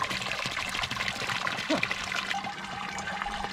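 Cold spring water trickles and splashes steadily from a mountain water source at a trek campsite in the Chartreuse, a close, continuous babbling flow.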